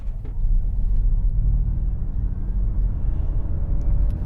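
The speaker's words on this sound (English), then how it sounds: "Let's do a launch, shall we?" A 2021 Ford Mustang Mach-E electric car launches hard, giving a steady low rumble of road and tyre noise that holds loud for several seconds without any engine roar.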